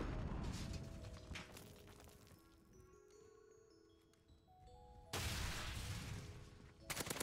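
GRAU 5.56 assault rifle fire in Modern Warfare: dense bursts of rapid automatic shots, loud and close, then a quieter stretch with tonal game sounds, then another heavy burst and a final short volley.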